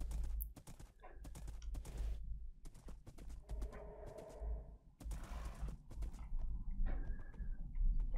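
Hooves clop at an uneven pace as a horse trots through the blocky world of Minecraft, with soft pigeon-like cooing drifting in at moments, all moderately quiet and without speech.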